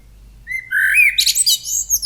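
A blackbird sings alone at close range: a rising whistled note, then a quick run of bright chirps and twittering phrases over near silence.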